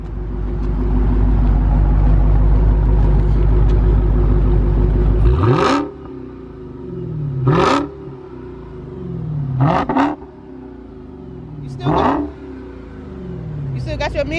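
A Dodge Charger Hellcat's supercharged engine, first holding a loud sustained roar, then revved in four sharp blips, each rising with a piercing supercharger whine before falling back to idle, with people talking nearby.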